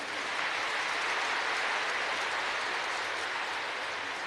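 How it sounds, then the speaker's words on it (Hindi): An audience claps in steady, dense applause at a spiritual gathering, a continuous wash of many hands without a break, fairly loud and even from start to finish. "अपने जन्म की मुबारक के लिए ताली बजा दे जरा।"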